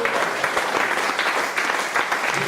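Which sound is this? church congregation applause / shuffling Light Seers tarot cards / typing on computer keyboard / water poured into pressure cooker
church congregation applause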